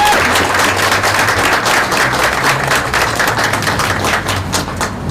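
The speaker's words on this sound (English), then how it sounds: "So let's give them a round of applause too." A full audience at an outdoor Black History Month flag raising in Lancaster bursts into sustained applause, dense steady clapping from many hands at close range, with no talk over it.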